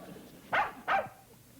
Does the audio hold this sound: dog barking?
yes